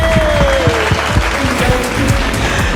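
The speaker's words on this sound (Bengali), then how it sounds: "জোরে হাততালি।" Loud clapping from a studio audience on a contest show as a 4th-place finish is announced, steady and close with a few voices and a sliding tone mixed underneath.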